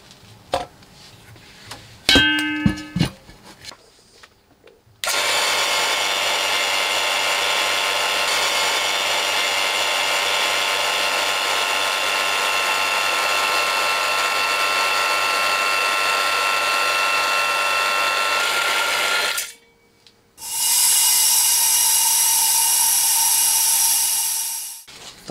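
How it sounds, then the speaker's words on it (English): A vacuum chamber pump degasses poured resin during an amplifier repair, running as a loud, steady mechanical drone for about fifteen seconds after some brief clicks and handling, then stopping and briefly restarting near the end. "I'm actually going to degas it in a vacuum chamber."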